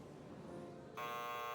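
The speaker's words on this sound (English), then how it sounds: "the buzzer rings and the curtain comes up" A theater buzzer sounds in the Chaos;Child visual novel game, starting about a second in as a loud, steady electronic drone that rings continuously over soft background ambience.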